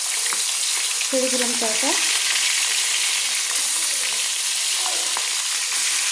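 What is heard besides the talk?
marinated silver carp fish frying in hot oil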